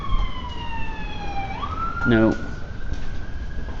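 Emergency vehicle sirens wail with a slowly falling then rising pitch, carrying steadily in the distance, while a voice speaks briefly over it.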